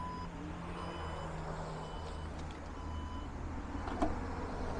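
A Porsche Macan S power tailgate closes with a series of steady electronic warning beeps over a low motor hum, ending in a soft latch thud.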